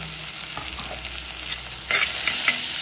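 Onion and tomato sauté in a pan with a close, steady sizzle, while a spoon scrapes and stirs a few times near the end. No one speaks.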